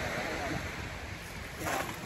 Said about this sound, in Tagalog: Ganda ng dagat, napakalinis.